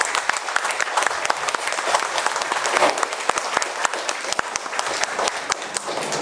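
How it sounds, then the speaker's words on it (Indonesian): Thunderous applause from a crowd honouring teachers and students, loud, continuous clapping with sharp individual claps standing out throughout. "Saya rasa kita patut beri tepukan yang sangat gemuruh kepada mereka semua."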